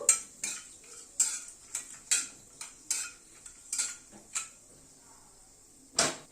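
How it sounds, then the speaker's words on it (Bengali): Whole cinnamon, cloves and cracked cardamom pods tossed in hot oil in a pan, a series of sharp metallic clinks and scrapes of a spatula at irregular intervals over faint sizzling, with quiet gaps between. "ফোড়নটাকে একটু ভালো করে ক্র্যাক করিয়ে নেবো"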